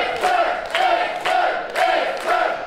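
A wrestling crowd at an event in Eutin cheers and shouts for X-Men in loud, rhythmic surges, roughly four swelling waves of chanting voices filling the hall.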